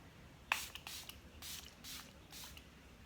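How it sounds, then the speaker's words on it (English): Milani Rose Water Prep and Refresh hydrating mist sprayed in several soft, breathy bursts close by, with short pauses between pumps in a quiet room. "I'm gonna finish up with the Rose Water Prep and Refresh Milani Hydrating Mist"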